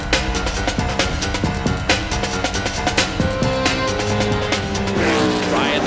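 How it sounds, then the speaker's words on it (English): NASCAR Nextel Cup race cars of Kurt Busch and Ryan Newman battle for the lead in 2004, their engines roaring loud and close with rising and falling revs and tire noise throughout. "Kurt Busch and Ryan Newman raced for the lead"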